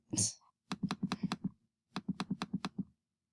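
Computer keyboard keys and a laptop trackpad click in two quick bursts of about eight sharp taps each, close and fairly loud, with a brief voice sound just before the first burst.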